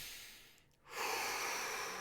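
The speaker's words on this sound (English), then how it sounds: "Deep breath in, deep breath out." A single slow, deep breath: a soft inhale fading into a brief pause, then a longer, steady airy exhale, close and quiet, with no talking, in the calm of a guided group meditation.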